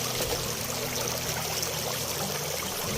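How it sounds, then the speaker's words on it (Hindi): A river flows steadily through the Uttarakhand hills in the early morning, a continuous broadband rush of moving water close by with no pauses and no voices. "तो ये पीछे पूरी नदी आ रही है"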